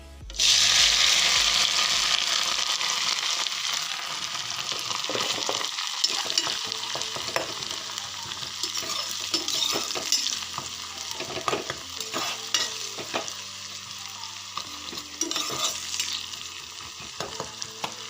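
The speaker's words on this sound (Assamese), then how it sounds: "এতিয়া ফুল আৰু পাতখিনি গলি যোৱালৈ তেলত এনেদৰে লৰাই থাকিব।" Flowers and leaves fry in hot oil for a homemade hair oil. A loud sizzle at the start settles into a continuous, close crackle, and a spoon keeps scraping and stirring throughout. No one speaks.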